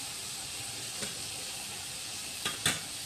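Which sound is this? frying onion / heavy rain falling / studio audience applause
frying onion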